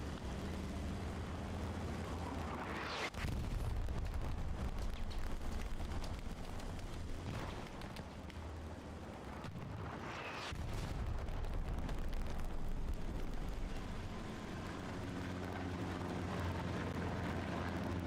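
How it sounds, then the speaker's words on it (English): Artillery shells land during a Hell Let Loose battle: two heavy booms roll out over a constant rumbling din of combat, loud and sustained throughout. "Artillery coming in hard."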